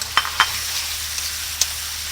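Shrimp stir-fry in a pan for seafood pasta, a steady close sizzle punctuated by a few sharp spatula scrapes and clicks, no voices.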